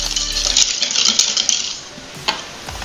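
A utensil stirs Basque cake batter of sugar and flour in a bowl, giving soft scraping and clinking strokes close by, fairly faint and continuous without any voices.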